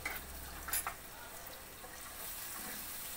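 Gima saag greens with salt, turmeric and a torn green chilli fry in oil with a soft, steady sizzle. A brief stirring scrape sounds early on, and the cooking is faint and close with no talking.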